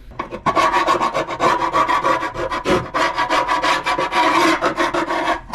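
Gasket material being scraped off an engine valley pan, heard as loud, fast, rhythmic rasping strokes close by, repeated continuously with no talking.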